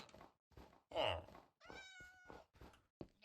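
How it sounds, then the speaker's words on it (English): A cat meows a few times in the Minecraft video game, short tonal cries, with a person talking between them, all fairly faint. "Oh, a cat."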